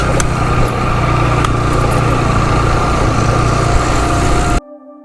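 Motorbike engine running steadily on a mountain road in the Naran Kaghan valley, a loud continuous close hum with a low harmonic drone, cutting out abruptly near the end.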